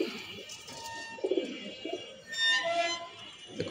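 Pigeons coo in soft, low repeated phrases close by, with light chirps and rustling in the loft; the calls swell briefly and fade, with no one speaking.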